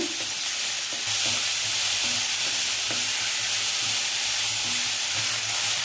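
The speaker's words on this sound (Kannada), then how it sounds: "ಈಗ ಈರುಳ್ಳಿನ ಹಾಕೋಣ. ಲೈಟ್ ಫ್ರೈ ಮಾಡ್ಕೊಳ್ಳೋಣ" Chopped onions frying lightly in a pan for avalakki chitranna, a steady broadband sizzle with occasional soft stirring scrapes throughout, close and continuous with no talking.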